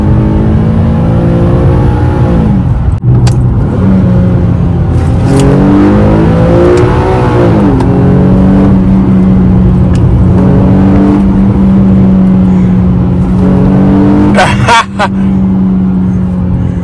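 An Infiniti G37 engine revs and accelerates hard, its loud, sustained drone climbing and falling in pitch through several pulls, with voices talking over it.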